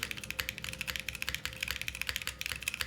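Steady, rapid typing on a Fjordboard mechanical keyboard with linear switches, close and clear, a dense run of crisp keystrokes with no talking.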